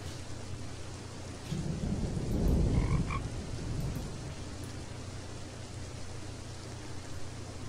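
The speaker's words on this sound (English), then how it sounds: "Okay, today is another stormy night." Stormy night in a Roblox camp game: steady rain hisses over a low bed of croaking frogs, and a deep roll of thunder swells and fades in the middle.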